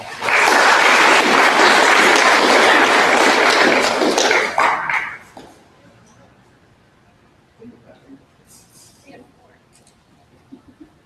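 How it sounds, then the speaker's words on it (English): An audience claps loudly for a speaker at a sustainability café event, a dense burst of applause lasting about five seconds before it abruptly dies away, followed by faint scattered taps and murmurs. "give her a round of applause"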